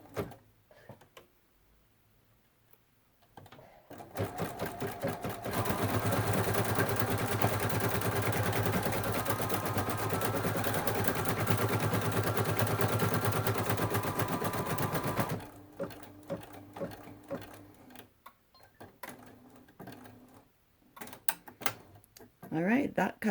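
An embroidery sewing machine stitches the finish on a cut work area, a steady rapid mechanical whirring that runs for about eleven seconds, with quieter clicks and handling noises before and after.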